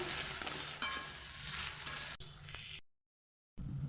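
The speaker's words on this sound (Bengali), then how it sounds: "আদা রসুনের পেস্ট দিয়ে নাড়াচাড়া করে নেব একটু" Fried potatoes stir-fried with ginger garlic paste in hot oil, giving a dense steady sizzle with faint stirring scrapes, cut off abruptly by a moment of silence before the frying returns.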